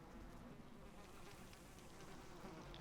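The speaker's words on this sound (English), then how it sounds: "I can hear flies buzzing around a dead" Steady, dense buzzing of flies hovering around a corpse in Neverwinter Nights: Hordes of the Underdark, a constant droning swarm with no pauses, moderately close and running alone.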